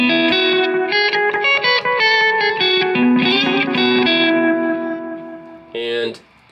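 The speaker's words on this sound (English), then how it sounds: "So if I turn on the analog delay, like, I just set it pretty high for you guys to actually hear that decay" A guitar sounds through an analog delay pedal set high, its distorted chords trailing long echoing repeats that fade away near the end.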